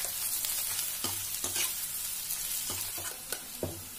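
Okra cooking in a pan with coriander powder, turmeric and garam masala, stirred over heat: a steady close sizzle with a few soft scrapes and taps from the spatula, no voices.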